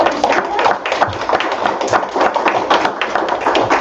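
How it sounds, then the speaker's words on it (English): An audience at a city council meeting applauds, a dense run of hand claps lasting a few seconds, steady and close, with no voices on top. "So, round of applause."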